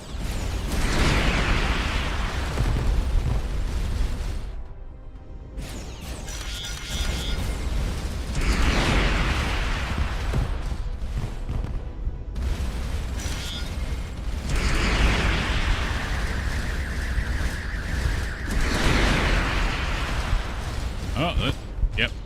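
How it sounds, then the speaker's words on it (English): Missile explosions in the space game Starcom: Unknown Space, bursts and booms from an attack on an elite destroyer ship, layered over constant game noise and a steady engine-like hum, with a speaking voice present throughout. "My missiles didn't actually do any good there"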